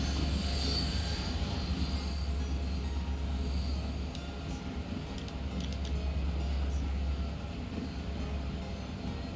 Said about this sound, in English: And see, there's the Far Rockaway train coming out.